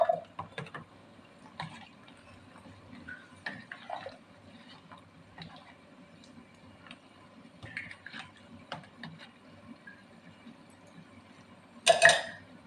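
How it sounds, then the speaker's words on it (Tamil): Tirunelveli idi sambar of ground coconut, lentils, garlic and asafoetida simmers in a pot, giving faint, sparse pops and ticks of bubbling with a brief louder clatter near the end. "குழம்பு நல்லா கொதிச்சிட்ருக்கு"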